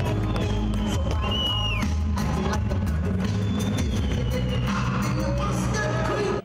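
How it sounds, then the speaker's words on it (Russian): Loud boxing crowd cheering and whooping as Nizhny Novgorod fighter Andrei Sirotkin enters the ring for his bout against Ricardo Mayorga, a continuous roar with yells and shouts rising over a booming low rumble. "Следующим под громкие овации болельщиков на ринг вышел нижегородский бык Андрей Сироткин"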